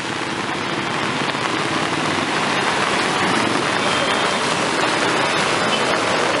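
Heavy rain pours in a dense, unbroken roar during a rainy-season storm, loud and close throughout with no letup.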